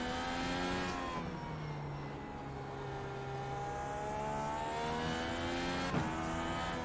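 An open-wheel race car engine in the Gran Turismo 7 racing game drones steadily at high revs, its pitch sliding down and climbing again as it shifts and accelerates, loud throughout with no talk.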